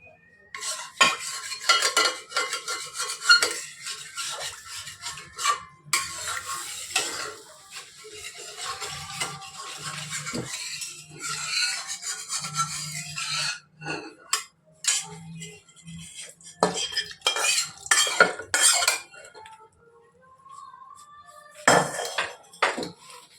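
A spoon scrapes and knocks against a metal pot while broken wheat and moong dal cook in water, producing irregular bursts of stirring clatter separated by quiet gaps, close and fairly loud.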